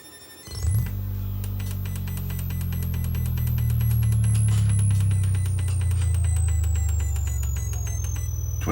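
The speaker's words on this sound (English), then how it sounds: "you use it as a sweep generator. Oops, that might be good to my speakers." A sweep tone from a DSO153 pocket oscilloscope's function generator plays loud through speakers after a short silence: a buzzy, pulsing low drone with a thin high whine gliding slowly downward.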